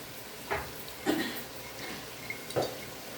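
A spoon scrapes and knocks against a pan while chili powder is stirred into chicken curry, a few sparse metallic clinks and scrapes, close but fairly soft, with no talking.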